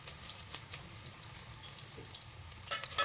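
Onions, green chillies and cloves frying in a pan for a rustic country chicken dish, a steady soft sizzle with a couple of brief scrapes or stirs and a louder burst near the end.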